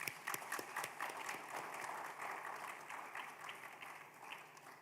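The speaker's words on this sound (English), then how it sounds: "Let's give a clap to" Applause from the audience at the closing session of an international e-learning conference, a steady wash of many hands clapping at moderate distance, fairly soft and even throughout.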